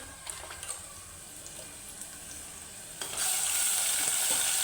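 Mutton pieces coated in turmeric and salt, with chopped onion, going into hot oil: a faint crackle of frying that swells into a louder, steady sizzle near the end.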